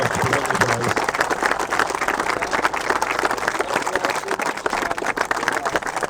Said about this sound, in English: quick round of applause for everyone